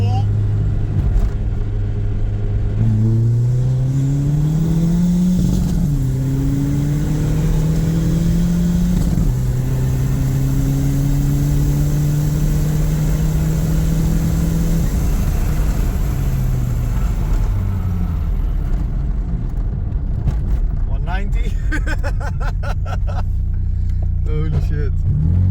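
Volkswagen Corrado 20VT accelerating hard in second gear, a loud close engine note rising steadily through a long pull before easing off, with voices speaking near the end.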